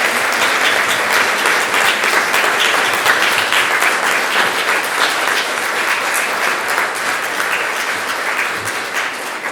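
Sustained, dense audience applause for two guest speakers at the close of an evening talk on book banning, loud and even throughout with no voices over it.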